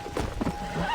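A horse neighs in Red Dead Redemption, a short whinny rising over faint hoof clip-clop and game ambience, about a second long and fairly close.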